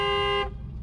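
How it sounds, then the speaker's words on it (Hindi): A single long, steady car horn blast sounds close and loud for about half a second, then cuts off, leaving low road and engine rumble from the driving car. "हॉर्न दीजिए लॉन्ग."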